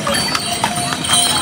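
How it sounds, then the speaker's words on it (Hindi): Horse hooves clip-clop along the crowded Kedarnath pilgrimage trail, a run of close hoofbeats heard under steady crowd and outdoor noise with voices talking nearby. "इंसान से ज़्यादा यहाँ पे आपको घोड़े नजर आएंगे।"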